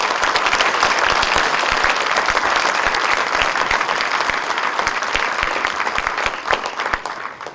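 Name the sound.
rousing audience applause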